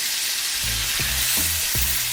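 Salmon fillet sizzling loudly in a hot pan just after being flipped, with a steady dense hiss and a few soft thuds as the fish settles, no voices over it.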